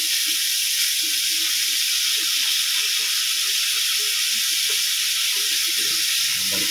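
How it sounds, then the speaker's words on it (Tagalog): Pork loin steak frying on a stove, a steady broadband sizzle and hiss running evenly throughout with no talking over it. "Ayan, habang sinisirit."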